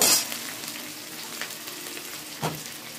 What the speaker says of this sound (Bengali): আমি এবার রসুনটাও দিয়ে দিলাম, পেঁয়াজ রসুন একটু ভেজে নেব।